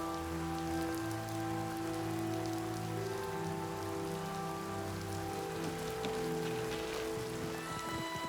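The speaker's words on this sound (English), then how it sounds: "It's raining." Steady rain falls on the streets of Oblivion Remastered, the video game, as an even, unbroken hiss that runs the whole time beneath sustained musical tones.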